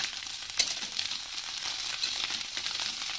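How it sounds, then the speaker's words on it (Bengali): Onions sizzle in a frying pan where fish has just been fried and are stirred around, giving a steady close hiss with a few soft scrapes and one brief clack near the start. "পেঁয়াজটা একটু এদিক ওদিক করে নাড়াচাড়া করে নেবো।"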